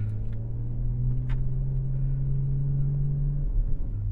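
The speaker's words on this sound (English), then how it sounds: "You can hear that rev matching downshift." BMW M440i xDrive Gran Coupe engine, 382 hp, during a rev-matching downshift: a steady low rumbling drone with a sustained tone that holds, then drops off, heard from inside without talking.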